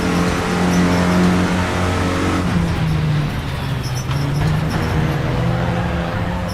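Race car engine in a Clio Cup or MX5 racing video game, droning loud and steady throughout with shifting revs, a dip and bog near the middle before pulling again.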